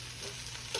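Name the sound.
Reuben sandwich sizzling while frying in the pan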